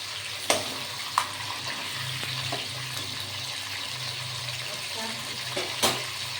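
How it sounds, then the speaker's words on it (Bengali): A fish head fries in oil in a wok with a constant close sizzle and bubbling. A few sharp clinks and scrapes come from turning it. "এই মাছের মাথা এরকম উল্টে পাল্টে লাল করে থাকতে হবে"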